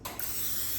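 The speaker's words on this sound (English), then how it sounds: "I might just lightly spray the edges." Cooking spray hisses briefly onto the edges of a lasagna pan, a single short close burst of aerosol spray with no talk.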